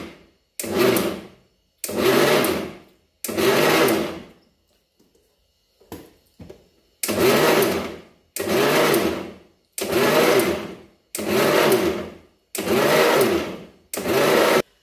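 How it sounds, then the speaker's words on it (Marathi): A mixer grinder blending chocolate ice cream batter runs in short loud pulses, about eight whirring bursts of one to two seconds each with brief silences between and a longer pause near the middle. "आता फिरून घेऊया आपण मिक्सरला."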